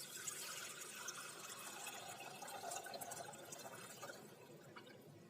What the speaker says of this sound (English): we will add 1 liter milk into the saucepan